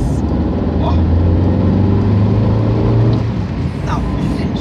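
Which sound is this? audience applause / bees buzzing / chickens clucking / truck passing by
truck passing by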